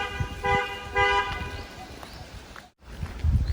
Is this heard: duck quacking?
no